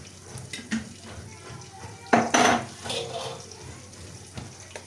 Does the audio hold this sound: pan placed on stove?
yes